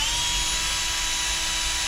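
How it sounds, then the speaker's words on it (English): Steady whine of a power drill boring a pilot hole in a Toyota FJ Cruiser dashboard, a short continuous burst at moderate level with no talking. "Okay, pilot hole's drilled."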